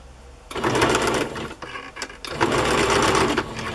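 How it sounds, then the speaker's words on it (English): A sewing machine stitches vintage light blue rickrack onto a piece of tablecloth, running in two steady whirring bursts with a short pause between them, close and fairly loud. "I'm going to sew it across the top of this piece of tablecloth"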